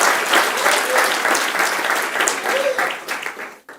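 Church congregation applauding loudly and steadily after a call from the pulpit, dense clapping sustained throughout before cutting off near the end, with faint voices mixed in.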